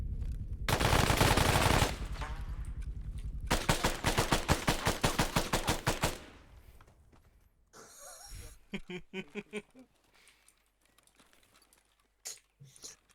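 Bursts of automatic gunfire during an urban warfare drill: loud sustained volleys, then rapid rhythmic shots, tapering into scattered sharp reports with quieter gaps and movement between.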